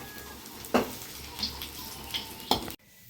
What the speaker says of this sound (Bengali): সমস্ত আমার কারি পাতার পেঁয়াজুগুলো ভাজা হয়ে যায়, কি যে খাস্তা হয়েছে। আওয়াজ শোনো, খালি শুনে বুঝতে পারছো।